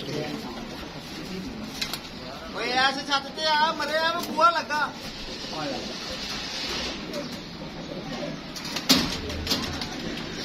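Pigeons coo in a short, rhythmic burst of soft, throaty calls, heard close by with people talking and some background hiss.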